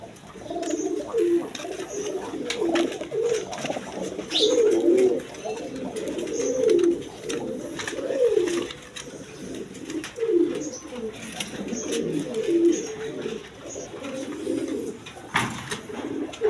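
Racing pigeons cooing repeatedly in soft, rolling calls, close by and fairly steady throughout, with a few faint chirps in the background.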